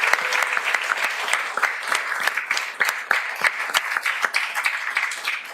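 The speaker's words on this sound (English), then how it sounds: "let's give them a round of applause." Steady audience applause at a speedcubing competition, many hands clapping together at a lively, even pace, filling the room without pause.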